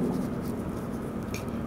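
Writing on a classroom board: a continuous soft scratching and tapping of strokes, close and steady, over a constant background hum.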